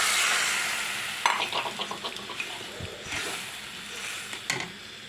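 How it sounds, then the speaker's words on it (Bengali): Spice paste poured into a pan of shukto vegetables, Bengali mixed vegetable curry, frying and sizzling, with soft stirring and splashing thuds as the paste hits the hot pan, fairly close and without talk. "মশলাটা হয়ে গেছে এবার আমি এটা ঢেলে দিলাম"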